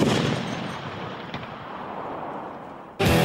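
A Kord heavy machine gun fires outdoors, a powerful blast with a long rumbling decay, then another sharp report cuts in near the end.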